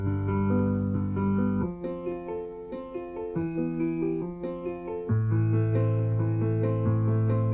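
Piano backing pattern from an Enya Cyber-G smart hybrid guitar, clear sustained notes and chords changing every second or two in a slow steady progression, alone without voices.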